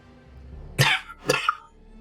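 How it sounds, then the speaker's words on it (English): Two quick, close coughs in succession, sharp and fairly loud over faint background hum. "Stop coughing too much."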